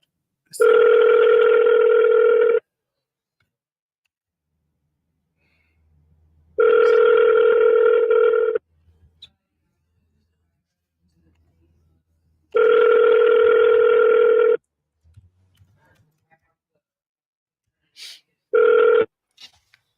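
Outgoing phone call ringing with no answer: a loud two-tone ringback repeating about every six seconds, three full rings and a brief fourth, with faint murmurs in the gaps.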